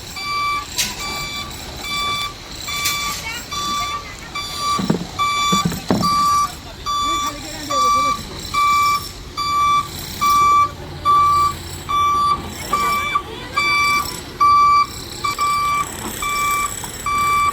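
A sixteen-wheel dumper truck backs up, its reversing alarm sounding a steady run of evenly spaced loud beeps over engine rumble, with brief clatter and a voice speaking early on.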